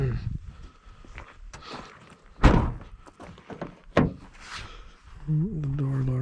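A car door shuts with a solid thunk during a trip to a scrapyard with loads of brass, aluminum and copper radiators, a couple of sharp impacts standing out over background rustling and brief talk.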